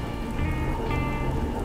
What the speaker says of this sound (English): How about that rain, huh?